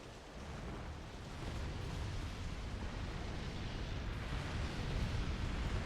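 Fire spell attacks from a Pyromancer enemy in the video game Dark Souls II, a continuous roaring, rumbling blaze that swells after the first second and stays loud and dense throughout, with no talking.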